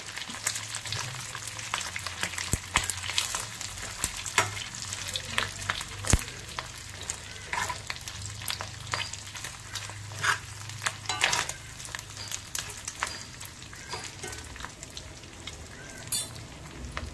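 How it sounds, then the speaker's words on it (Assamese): Fish roe frying in oil in a pan, a steady close crackling sizzle with scattered sharp pops and spits throughout, no talking. "ইপিটিকৈ ধুনীয়াকৈ লৰাই মই ভালদৰে ভাজি ল'ম কণীখিনি, যাতে সকলো ফালে ভালদৰে সিজি যায়।"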